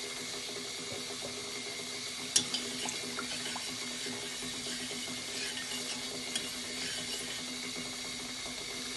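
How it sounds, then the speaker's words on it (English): Hot water runs steadily into a pot while breakfast is being cooked, a quiet continuous trickle with a few small clinks and taps over it. "More hot water over here,"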